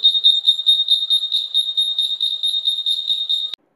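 Fire alarm siren on a school disaster-management working model, a loud, shrill electronic beeping pulsing rapidly and evenly for several seconds before cutting off abruptly into silence.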